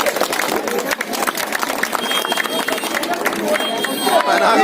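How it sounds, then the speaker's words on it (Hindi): Crowd at an outdoor Jan Adhikar Party political rally in Bawana JJ Colony, Delhi, clapping in a dense, continuous burst of applause mixed with crowd noise and voices. "ताली और बजाइए, सब लोग नहीं बजा रहे"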